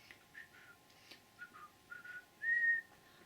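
Someone whistles a short, gentle tune in soft, separate phrases, ending on one sustained note. The whistling is close and fairly quiet and is heard alone, with no talk.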